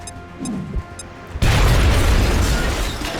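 A frag grenade explodes in the XCOM: Enemy Within video game, a sudden loud, sustained boom after a brief quieter lead-in of game sounds.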